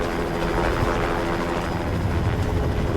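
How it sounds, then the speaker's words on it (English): An approaching helicopter's steady rotor thrum drones loudly and continuously, a deep pulsing roar that fills the whole moment without a break. "There was a helicopter that we could hear that was getting closer and closer and closer"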